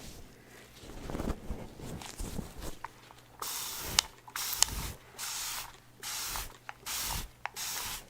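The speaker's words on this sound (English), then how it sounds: "All right, I'm gonna go ahead and spray you down again." A spray bottle mists water onto hair at an ASMR salon, giving close, crisp hissing bursts in an uneven series, each short spritz preceded by a faint click of the trigger, with no speech.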